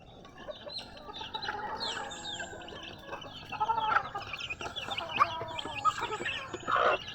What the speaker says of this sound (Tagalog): Ayan yung mga naglilimlim natin.